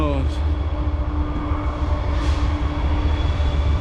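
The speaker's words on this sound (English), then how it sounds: "Bloody train again" A passing train rumbles steadily with a low, continuous roar and faint higher whines, heard at a distance under the scene with no clear voice on top.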